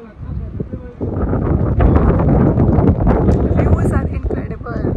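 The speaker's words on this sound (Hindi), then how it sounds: "अब तो इतनी अच्छी हवा चल रही है" Gusty mountain wind at Sonmarg, Kashmir, rumbles and buffets loudly in rising and falling surges, with people talking underneath and a few light clatters.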